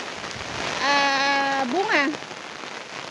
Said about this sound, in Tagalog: Naririnig nyo ba ang ulan?